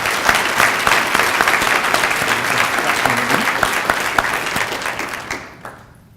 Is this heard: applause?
yes